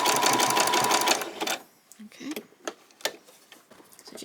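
A sewing machine running steadily while sewing back stitches on a swimsuit, a loud continuous whir for about a second and a half, then quiet with scattered clicks and a voice talking.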